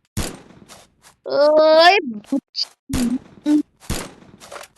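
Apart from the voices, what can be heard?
Cobra MP40 gunfire in a video game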